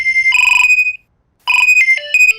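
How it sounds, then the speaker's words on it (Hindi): A mobile phone ringtone plays loud and close in two bright electronic bursts separated by a brief silence, the second ending in a quick run of shifting tones. "मोबाइल किसका बजा?"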